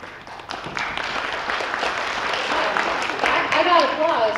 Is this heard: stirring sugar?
no